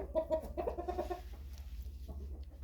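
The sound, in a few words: chickens clucking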